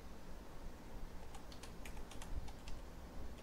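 Keys clicking on a computer keyboard as text is typed into a text box, a faint, irregular run of light taps over a steady background hiss.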